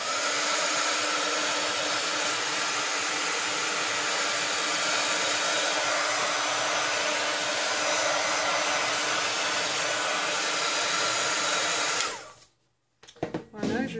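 A heat gun blows hot air steadily over paint for about twelve seconds, a loud continuous roaring hiss that cuts off abruptly near the end, followed by a few faint clicks and handling noises.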